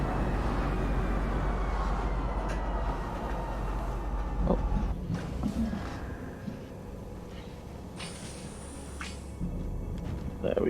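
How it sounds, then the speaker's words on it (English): A train pulling into a station in the space game Star Citizen, its low rumble easing and fading as it slows, with a soft hiss and brief mechanical sounds near the end. "Please watch your step when disembarking the train."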